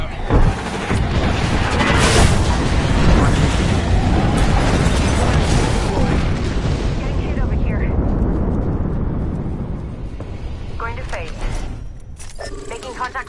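A frag grenade blast in a PS4 first-person shooter, a loud close explosion with a long rumbling roar that slowly fades into gunfire and game effects.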